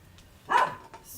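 A dog gives a single short bark, moderately loud and close, in an otherwise quiet indoor room, followed by a faint softer sound.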